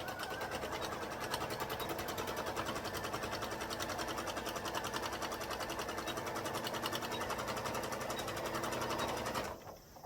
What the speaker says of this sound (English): Watch me try to sew a straight line